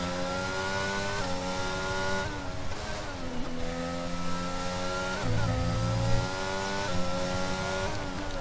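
Formula 1 car engines screaming around Monza in F1 22, high-pitched revving with repeated gear shifts and rising whines, one car passing closer with a deeper surge midway, no talking.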